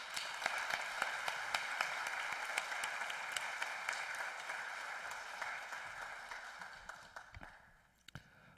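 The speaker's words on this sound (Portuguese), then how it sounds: "A gente gostaria de parabenizá-lo e pedir uma salva de palmas para o Matoso." Steady applause from an audience at a formal honorary ceremony, with scattered sharp claps, holding even for several seconds before thinning out and fading near the end.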